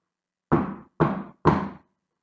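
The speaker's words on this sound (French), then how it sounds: "ils frappent à la première porte de la maison." Three firm knocks land on a house door at an even pace, close and loud, each with a short resonant decay, with silence around them.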